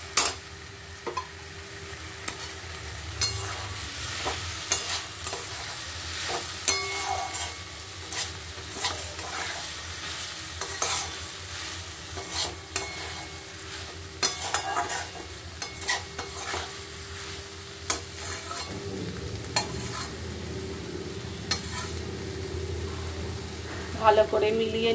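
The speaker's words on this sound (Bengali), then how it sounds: "ভালো করে মিলিয়ে নিয়েছি পোস্তর সাথে ঢ্যাঁড়স।" Fried okra being stir-fried with poppy seed paste in a pan for Bengali-style dhyarosh posto, a quiet sizzle under repeated scraping and clinking stirs, with bursts of louder scraping spread through.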